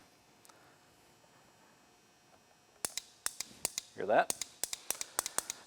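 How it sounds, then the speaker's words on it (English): A brand new ATV starter solenoid, tested off the machine, snaps out a series of sharp, close clicks each time it is energized, roughly a dozen in quick succession. A voice speaks briefly just before the clicking starts. "you hit it and you heard the solenoid click"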